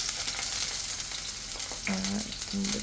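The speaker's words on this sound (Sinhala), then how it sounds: "මම පොල් තෙල් ටික රත් වෙනකොට මම මගේ මේ කපාගත්ත ලුණු ටික දාගත්තා" Chopped onions sizzle and crackle in hot coconut oil in a pan, a steady close frying hiss with brief clinks of stirring near the end.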